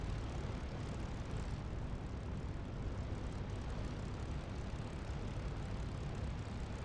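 P-51D Mustang piston engine idling steadily while the fighter taxis to the runway in the DCS flight simulator, a constant, even propeller drone heard from the cockpit, moderately quiet and without pauses.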